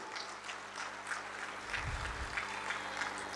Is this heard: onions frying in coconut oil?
no